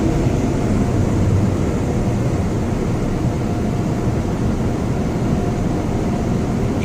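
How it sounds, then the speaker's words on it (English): Blower dryers at an Autec EV-1 touch-free car wash roar continuously, a loud broad rushing of air that stays even throughout with no talk. "Superb job with the dryers right now"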